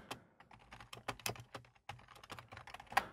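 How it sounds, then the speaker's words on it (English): A short message is typed on a computer keyboard, giving rapid, irregular key clicks close up and at moderate volume with brief pauses, and no speech. "And I'll just type a little bit of a message here."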